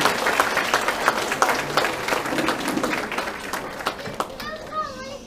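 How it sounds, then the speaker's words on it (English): Audience at a club Christmas showcase applauding a dance group, dense sustained clapping with children's voices mixed in, tapering off at the end as the room quiets. "Let's give them a massive round of applause again."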